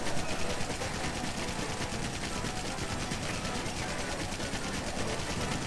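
Rapid, continuous gunfire from a bowgun loaded with special ammo in Monster Hunter: World, a dense unbroken rattle of shots at a steady fast rhythm, loud and close throughout.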